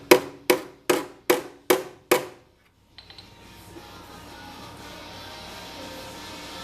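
Six sharp metallic hammer blows on an Austin Healey car body panel, backed by a pry bar held as an anvil, evenly spaced and ringing briefly, followed by quieter shuffling and handling noises.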